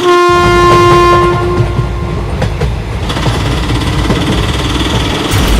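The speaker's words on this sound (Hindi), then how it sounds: "सामने से तो एक ट्रेन नहीं बल्कि एक ट्रेन का इंजन आ रहा है।" A cartoon train engine comes on loud and close, its horn blaring in a long sustained blast at the start, then heavy rumbling and clattering wheels roll on steadily with no talk.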